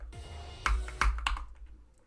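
A few crisp computer keyboard key presses during gameplay, three distinct close clicks in quick succession over a faint background hum.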